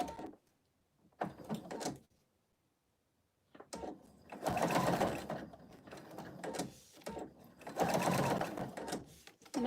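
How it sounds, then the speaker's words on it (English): A home sewing machine runs a straight stitch around the outline of a fabric stocking ornament, its motor whirring in several bursts of varying length with short pauses between them, close and fairly loud. "now I'm going to go back to the straight stitch. I'll just do it around the outline."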